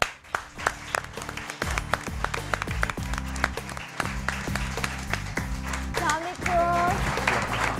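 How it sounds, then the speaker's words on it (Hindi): Audience clapping to welcome a guest onto a stage, sharp irregular claps over sustained musical tones, growing denser toward the end, with a voice briefly audible near the close. "मैं चाहूँगी कि आप तालियाँ बजा के उनको वेलकम करें।"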